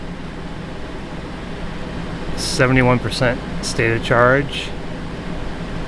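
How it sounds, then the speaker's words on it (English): A Class B motorhome air conditioner runs with a steady broadband roar and the engine idling beneath, a constant hum throughout while a person talks briefly over it. "Hopefully you can hear me over the AC"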